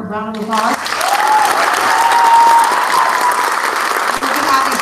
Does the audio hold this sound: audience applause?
yes